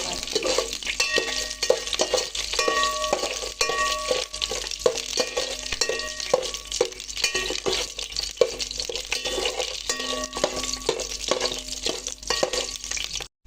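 Green chillies, onions, peas, tomatoes and biryani masala stirred and frying in a pan for a veg biryani, a steady sizzle broken by repeated scraping strokes of a spoon, close and alone with no talk.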